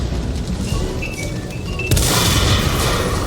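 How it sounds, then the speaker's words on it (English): A tank's sniper shot in World of Tanks booms out suddenly and loudly, a single sharp blast that cuts over a low rumbling battle ambience and leaves a sustained noisy roar behind it. "That was a heck of a sniper shot"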